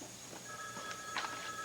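Telephone ringing indoors, faint electronic ring tones in short bursts over quiet background.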